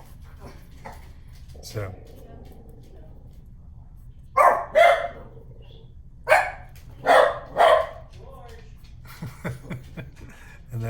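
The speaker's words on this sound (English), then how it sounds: "here go the dogs" Dogs barking in short bursts of two or three loud barks, fairly close, over a steady low background hum, with a brief spoken word and some softer yips near the end.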